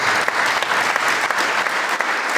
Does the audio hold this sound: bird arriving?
no